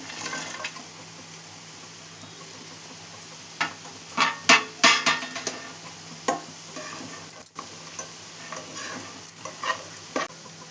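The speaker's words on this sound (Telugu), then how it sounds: "ఈ పన్నీర్ ముక్కలు కూడా వేసేస్తున్నాను" Paneer pieces stirred in a frying pan for paneer masala curry, with a soft ongoing sizzle and bursts of scraping spoon-on-pan stirring and clinks, up close.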